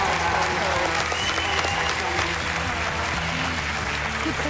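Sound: audience applause for contestants on a TV talent show

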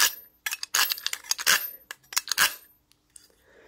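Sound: knife sharpener being used

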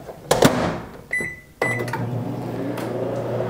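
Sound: microwave oven running

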